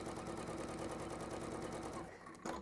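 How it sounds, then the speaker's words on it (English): A sewing machine stitching fabric in a straight line, a rapid, even mechanical chatter running continuously before slowing and stopping near the end, close and steady. "Pulling my fabric out, so I'm always sewing in a nice straight line."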